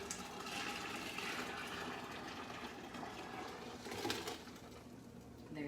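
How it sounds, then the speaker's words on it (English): Hot tap water is poured slowly into a 5-gallon bucket, a faint, continuous trickling and splashing wash heard alone at low volume. "I'm gonna slowly pour this in."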